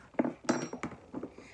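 Omelette ingredients stirred with a spoon in a bowl, giving a short run of close, light clinks and scrapes of the spoon against the bowl, quiet and uneven in rhythm.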